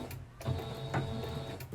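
A sewing machine running a back stitch, a brief close mechanical whirr with a couple of rhythmic clunks, lasting under two seconds.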